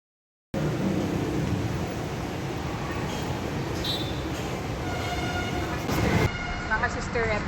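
Riding aboard a Manila LRT light rail train on a Sunday: a steady, loud rumble of wheels on track fills the whole ride, with a brief louder surge near the end and voices mixed in faintly.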